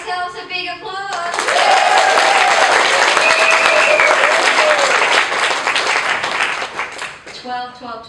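A crowd breaks into loud, sustained applause at a kickoff gathering, dense clapping swelling in after a brief voice and continuing for several seconds with cheering voices mixed in before fading back to speech.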